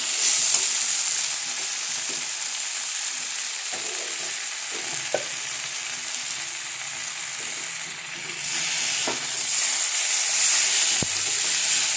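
Masala frying in a pan for a soybean and potato curry, a steady close sizzle and hiss with occasional soft stirring clicks, running continuously throughout.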